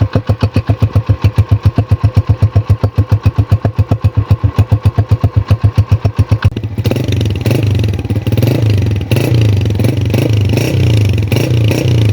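A Honda CG125 motorcycle's single-cylinder engine idles close by at a steady, even thump, then revs up into a louder, rougher continuous drone with no talk.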